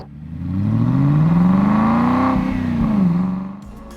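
A twin-turbo V8 in a 2025 Aston Martin DB12 Volante revs up loudly, rising in pitch, holding a deep roar, then dropping back with a burble, close and alone.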